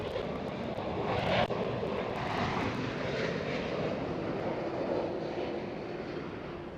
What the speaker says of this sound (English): KLM 787-9er.